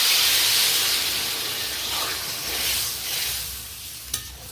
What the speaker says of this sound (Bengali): এই পর্যায়ে আমি জল অ্যাড করে দিচ্ছি।